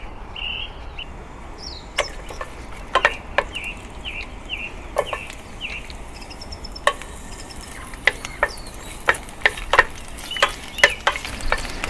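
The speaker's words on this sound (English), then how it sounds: "going to saute these ingredients with the oil" Ginger, green onions and spices sautéing in hot oil, a continuous sizzle with sharp metallic clinks and scrapes of stirring scattered throughout, close and fairly quiet, with no talking.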